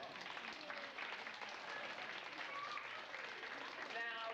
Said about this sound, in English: since we got such a thunderous applause that time